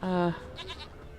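A goat in the video game The Witcher 3 gives a single clear, wavering bleat up close, followed by fainter game sounds and soft noise.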